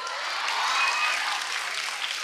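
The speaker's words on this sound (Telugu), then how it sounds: "మాధవీలత గారు కూడా క్లాప్స్ కొడుతున్నారు" An audience in a student Q&A session bursts into sustained applause, many hands clapping together in a dense, steady wash that swells slightly and holds throughout.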